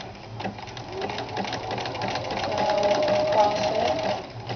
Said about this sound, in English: you set your machine to a satin stitch, which is basically a zigzag that's scrunched up really close together